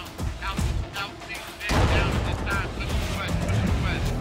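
A weapon is test fired in a tactical shooter game, several sharp booming shots in an uneven sequence, the later ones louder and heavier with rolling echo, close and prominent.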